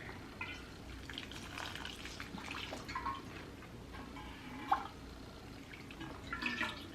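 Water poured into a potted Monstera plant gives soft trickles and scattered drips into the soil, faint and close, with small splashy bursts and no talking.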